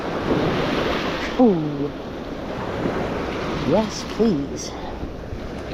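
Ocean waves wash steadily onto a beach during shell collecting, with a constant surf roar and gusts of wind noise while a voice briefly speaks over it.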